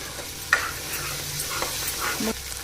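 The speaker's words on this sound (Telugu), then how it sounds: "ఇది కొంచెం సేపు నూనెలో మగ్గని పెడతాము అందాజు ఒకటి మిరపకాయలు కూడా మగ్గాలి నూనెలో" Ridge gourd and chillies frying in oil make a continuous close sizzle, broken by a few scraping stirs and light clicks of a utensil, with no voice.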